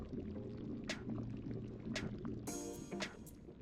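Banana juices poured into a pan while baking banana and chocolate chip bread, a soft liquid trickle with a few sharp clinks and brief splashy bursts, close and continuous, with no talk.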